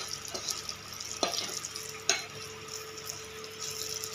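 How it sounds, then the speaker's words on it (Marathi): Green chillies with cumin and turmeric fry and get stirred in a pan, a soft steady sizzle with a couple of sharp scraping knocks from the spoon, fairly quiet and with no talk. "मिरची टाकले, आता मस्त अशा भाजले त्या छान"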